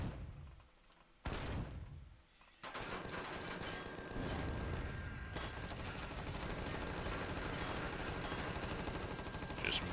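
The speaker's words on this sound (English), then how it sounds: "I gotta say, the minigun's a lot more fun than I originally" A minigun in the video game Empyrion Reforged Eden fires at a turret in loud, dense, continuous bursts, with a short pause early on before the sustained rattling stream of fire resumes.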